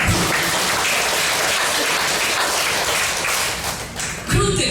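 An audience claps in a church. Dense, loud applause fills the whole clip, then thins near the end as a voice starts.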